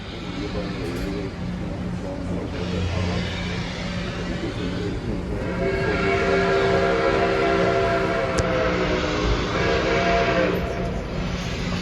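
Nippon Kaiser... no: A steam locomotive's Hancock chime whistle sounds in long, loud sustained blasts over the rumble of the moving excursion train 765, rising midway and holding several seconds.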